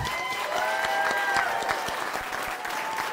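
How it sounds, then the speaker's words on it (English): A commencement audience applauds the graduating bachelor's class of 2024, steady moderate clapping from many hands with a few sharper individual claps standing out, heard at a slight distance in a large space. "Please give these students a round of applause."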